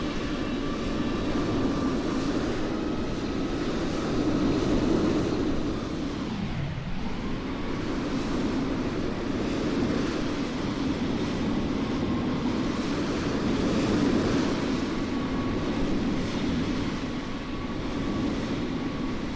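Continuous airliner engine drone in Microsoft Flight Simulator, a loud steady roar with a brief dip midway before settling back to the same even level, no voices present.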